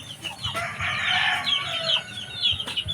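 Chicks and chickens cluck and cheep close by, with overlapping calls and a crow-like cry rising and falling over a faint farmyard background.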